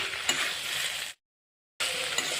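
Chicken pitha frying in hot oil gives a steady, loud sizzle with a soft crackle, broken by a sudden gap of silence of about half a second before the frying hiss resumes.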